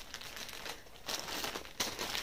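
A plastic clothing package holding a raspberry-colored cardigan-style jacket is crinkled and opened up close, producing steady rustling with a few louder crackling bursts.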